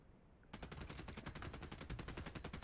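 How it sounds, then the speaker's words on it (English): Rapid bursts of gunfire crackle in a Fortnite match, a quiet stretch giving way to a dense, fast rattle of shots that keeps going to the end, heard at a low level. "I'm hearing a lot of gunshots."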